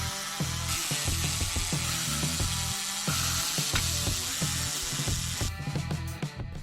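A screwdriver backs out the screws holding a microwave oven's keypad board, giving close, rhythmic ratcheting clicks and scraping turns in quick repeated bursts.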